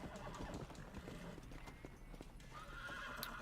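Horse in the western video game Red Dead Redemption: a loud whinny rises over a steady clip-clop of hooves, with no talking heard.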